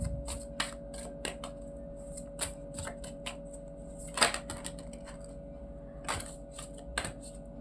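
A deck of tarot cards is shuffled in quick, crisp bursts of riffling and flicking, repeating irregularly at close range against a quiet background.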